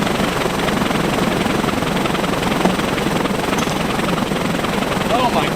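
A Mad Batter bat-swinging machine spins at 50% speed with a loud, steady, helicopter-like whirring chop that fills the whole clip, with no other sounds standing out.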